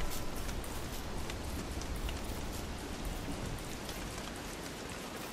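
Steady night rain in the video game Don't Starve patters densely on a surface, a constant wash of drops with no talking.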